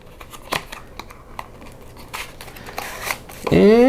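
A cardboard box for an 8BitDo USB adapter is opened with a few sharp scrapes, clicks and crinkles, ending in a louder tearing rip of cardboard, close up and without talk.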